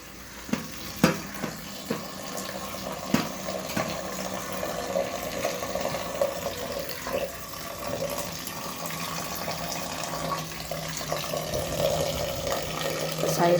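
Water runs from a kitchen tap during washing, a steady splashing stream with a few sharp knocks and clinks of dishes early on, fairly close.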